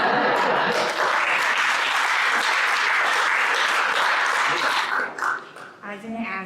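An audience claps at a town candidates' night, with sustained applause and a few voices that thin out and fade near the end.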